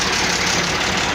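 Tractor engine with a weak battery running after a slow start, a loud, close, steady rumbling idle that carries evenly and then cuts off abruptly at the end.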